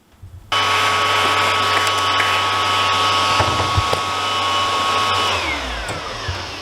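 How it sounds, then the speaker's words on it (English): A vacuum cleaner starts abruptly and runs with a loud, steady whining roar, sucking up debris from a single-pane double-hung window replacement, then winds down near the end, with no talking. "Now it's going to vacuum this up"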